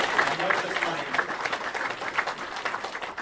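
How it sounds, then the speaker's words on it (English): A crowd at the official opening of a mosque and community centre applauds, with uneven rhythmic clapping and voices murmuring and calling out over it. "Will you please put your hands together for everyone who's achieved?"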